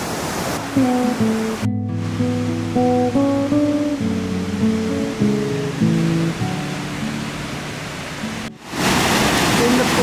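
Steady roar of a waterfall in Anglesey, Wales, in autumn fills the scene while a person talks over it, with the rushing water continuing throughout.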